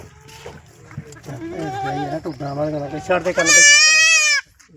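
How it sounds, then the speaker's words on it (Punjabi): Goat bleating at a Punjabi goat market, several loud, wavering near cries that rise into a long high bleat, with a voice talking around them. "ਪੂਰੀ ਟੌਪ ਕੁਆਲਿਟੀ ਦੀ ਬੱਕਰੀ ਆ ਬਈ"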